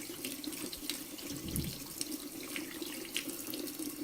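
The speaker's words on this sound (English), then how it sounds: "just wash it thoroughly with a bit of water" Running tap water steadily splashes into a sink as plumbing parts from a spraying faucet are rinsed, a continuous close hiss with small splashy fluctuations and no talk.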